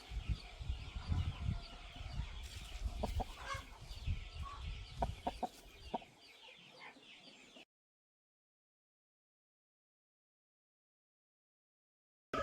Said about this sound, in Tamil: இந்த சேவல் பார்த்தீங்கன்னா இப்போ தான் எடுத்துகிட்டு வந்திருக்கோம்.